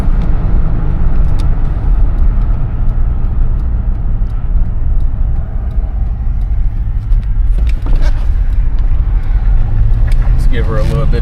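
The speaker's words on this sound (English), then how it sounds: "Give her a little bit of gas." A 1997 Chevrolet Tahoe accelerating at around 35 mph, its engine and road noise a loud steady low rumble from inside the cabin throughout, with a faint voice near the end.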